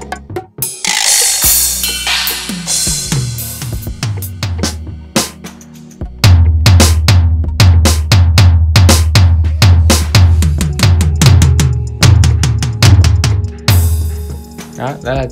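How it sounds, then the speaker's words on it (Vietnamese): Built-in drum sounds from the percussion mode of a NUX WK400 digital piano play a steady rhythm of sharp hits over a repeating low pulse. It is loud and close, with no voice. "Đó là các cái tiếng trống thôi."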